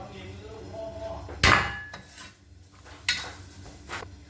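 A single sharp pounding thud as shallots are crushed, then a lighter knock a moment later, with faint clinks and rustling around it, while cooking Thai chicken tom yum.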